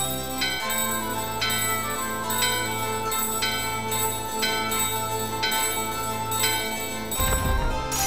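A bell in the video game Final Fantasy IX rings in repeated, evenly spaced strikes with a sustained ringing tone, clear and alone, ending in a short low rumble.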